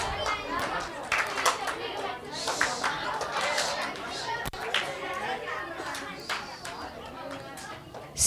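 Children at a camp clap in scattered, uneven bursts during a group concentration game, with lively chatter and young voices running through the room.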